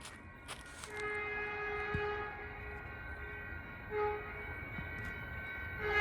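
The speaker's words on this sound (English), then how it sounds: "here comes Caltrain 156. This is a southbound local train making all stops to Tamian Station in San Jose." A Caltrain southbound local train passes between railroad crossings, its steady horn blasts sounding over continuous wheel and engine rumble, with crossing bells ringing faintly through it.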